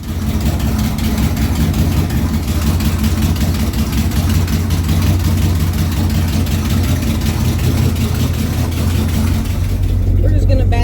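A 2010 Subaru Legacy GT idles close by with a loud, steady low rumble and even mechanical chatter throughout, voices talking over the engine.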